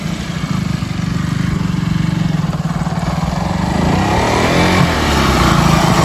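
A motorcycle engine chugs loudly nearby with a steady pulsing putter that thickens as the bike draws closer, with no talk over it.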